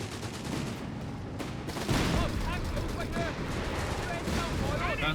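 Rapid gunfire and booming explosions from the strategy game Company of Heroes 3 form a continuous dense battle din. A commentator talks over it.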